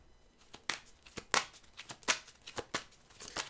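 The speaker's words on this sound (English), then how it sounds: "Let's have an honest, good shuffle." A deck of tarot cards is shuffled by hand in a series of crisp riffles and slaps. The bursts come irregularly at close range against a quiet background, with no talking.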